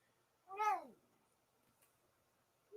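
A cat gives a single clear, rising-and-falling meow close by in a quiet room, followed by silence and a faint click.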